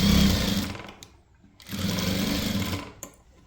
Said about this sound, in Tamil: அதை வந்து கவர் பண்ணுற மாதிரி நீங்கள் தைக்கணும்